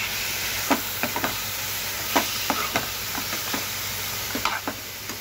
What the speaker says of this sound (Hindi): तब हम इसमें डालेंगे हमारा कीमा, चिकन का कीमा। इसे भी अच्छे से भून लेंगे।